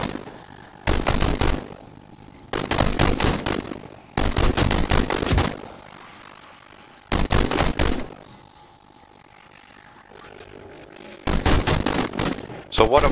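In 7 Days to Die Alpha 20, during a horde night, an AK rifle rips off five loud bursts of automatic fire, each about a second long, with short quiet gaps between them.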